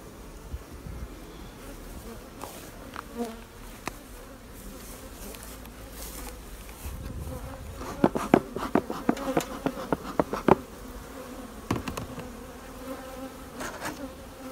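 Honeybees buzzing around an open hive, a steady close hum throughout with scattered clicks and knocks of hive frames being handled.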